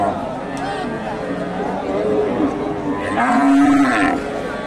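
Cattle low and moo at a busy livestock market in Bogura, with several calls rising over a steady murmur of crowd chatter and people talking nearby.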